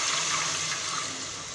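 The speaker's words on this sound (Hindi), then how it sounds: "अब हम इसके अंदर थोड़ा सा जो है वो पानी शामिल करेंगे।" Water pours into a hot karahi pan of Balochi chicken tikka, a steady, close rushing splash that tapers off slightly toward the end, with no talking.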